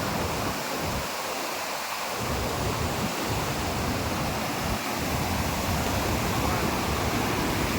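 Rushing water from the Thondamanadu pond waterfall near Tirupati and Srikalahasti, a loud, steady, broadband roar recorded up close with no break.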